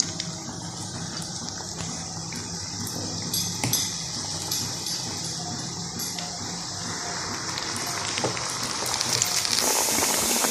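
Besan batter dropped spoonful by spoonful into hot desi ghee for laddoos, a steady close sizzle and bubbling hiss with occasional clinks of a utensil against the pan.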